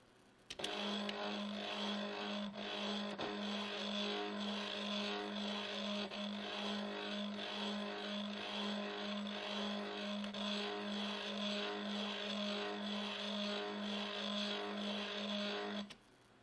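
Stepper motor driven through an H-bridge at 200 steps per second, producing a steady, fairly quiet buzzing whine with a constant pitch that runs for about fifteen seconds and then stops.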